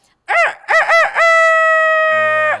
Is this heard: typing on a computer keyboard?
no